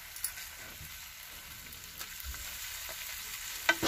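A thick cooked-down masala bubbles and fries in released oil over a low flame, a soft, steady crackle with occasional spoon taps and no voices.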